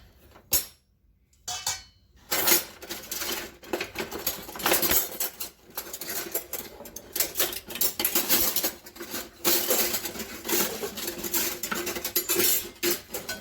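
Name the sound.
cutlery clattering while getting a slotted spoon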